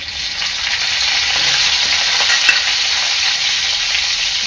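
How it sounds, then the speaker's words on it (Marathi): Cumin, curry leaves and onion tempering in two to three ladles of hot oil in a pan, a bright, loud hissing sizzle that holds steady with a brief sharp pop midway. "फोडणीला टाकणार आहे जिरं"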